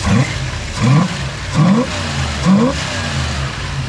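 A 1965 Plymouth Fury wagon engine fitted with a Sniper 2 EFI, blipped up and down four times in an even rhythm, each rise a short throaty roar over a rumbling idle, close and loud.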